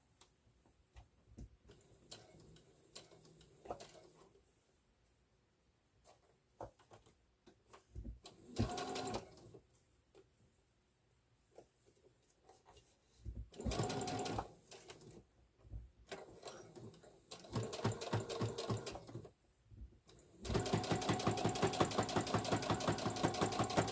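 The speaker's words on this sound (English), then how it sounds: "So I'm going to top stitch this down." A sewing machine top-stitches a phone bag in several rapid, rattling bursts of stitching, with quiet pauses between them and a longer, steadier run at the end.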